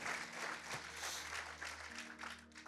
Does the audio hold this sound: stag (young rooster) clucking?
no